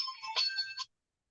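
A phone rings with a bright electronic ringtone, a short melodic burst of under a second that cuts off abruptly, heard alone.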